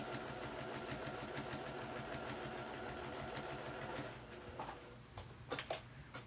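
A serger stitches binding onto a quilt, its motor running in a steady, fast mechanical whir that eases slightly near the end, broken by a few short clicks and bumps.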